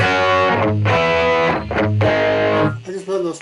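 An electric guitar played through a BOSS eBand JS-10 with compressor and distortion rings out loud, sustained, heavily driven chords in a 70s style, struck in three bursts, with echo trailing after.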